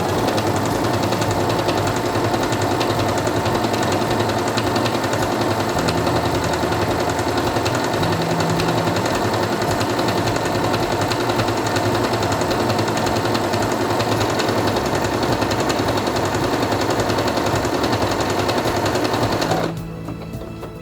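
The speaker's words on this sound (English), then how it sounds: "Place it under the presser foot, lower it, and begin sewing." Quantum Stylist 9960 sewing machine stitching fabric under the presser foot, a steady, continuous mechanical whir with rapid rhythmic needle clatter running loud for about twenty seconds before stopping abruptly.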